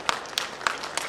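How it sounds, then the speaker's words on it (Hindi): A handful of scattered hand claps at a ceremony marking the foundation day of the Jharkhand Legislative Assembly, about four sharp, separate claps, fairly faint and well spaced. "अध्यक्ष महोदय से ही सादर तालियां हो आपकी ओर से।"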